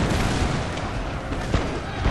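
Distant artillery booms and scattered musket volleys from a Napoleonic-era battle in the strategy game Napoleon Total War, a dense rumbling wash of battle noise with a couple of slightly sharper thuds.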